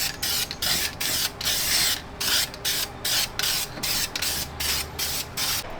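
Trim black paint sprayed from an aerosol can onto the engine bay fender wells of an OBS Chevy truck getting an LS engine, close and loud hissing bursts in a steady rhythm of short pulses with brief pauses between.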